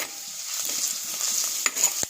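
Ginger frying in hot coconut oil in a pan for a sardine curry, a steady soft sizzle with light stirring scrapes and a couple of sharper pops near the end, no voices.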